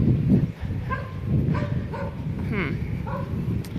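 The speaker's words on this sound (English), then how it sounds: "looks like there's a little dog confrontation up here" Small dogs in a confrontation outdoors: a few short yips and barks break through, fairly faint and mixed in with a talking voice and background noise.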